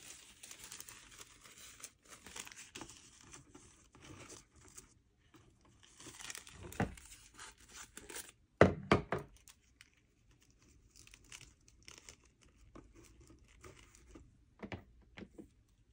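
Paper being cut and handled while making a Blox Fruits dough fruit piñata, with crinkling and rustling through most of the stretch and a couple of sharper snips near the middle.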